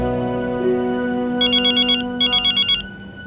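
A phone ringtone sounds indoors, two bursts of rapid electronic trilling pulses separated by a short pause.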